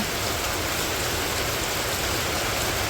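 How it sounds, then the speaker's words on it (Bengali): Rain falling steadily in a village after a heavy downpour has eased, a dense even hiss of drops on surfaces all around, continuous and fairly loud with no voices. "বৃষ্টি অবশ্য বেশি যখন নামছিল তখন দেখাতে পারি নাই আর কি, অনেক আর কি জোরে নামছিল, এখন আবার একটু কমছে।"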